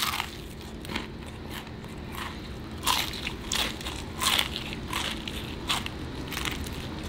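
Close, crisp crunching and chewing of KFC fried food: a steady series of bites and crackly chews, with sharper crunches now and then and no talking over them.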